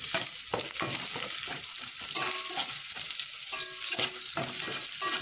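Garlic and onion fry in a pot for native tinola, giving a loud, constant close sizzle broken by stirring scrapes and soft utensil knocks, with no voices.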